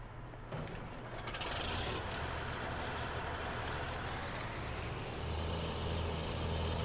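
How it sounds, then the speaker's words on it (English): A tractor engine idles in Farming Simulator 19, a low mechanical rumble with faint rattling that holds steady and moderately quiet throughout, with no talking. "let's take the tractor"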